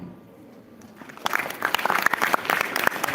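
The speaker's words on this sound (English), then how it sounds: "Please give her a round of applause" Audience applause at a school welcoming ceremony, rising from near silence to a steady spread of clapping that carries on to the end.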